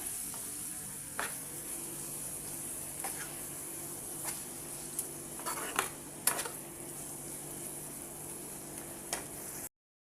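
Ridge gourd curry with milk and spice powders bubbles gently in a covered pot, a soft steady sizzle broken by scattered faint clicks and taps.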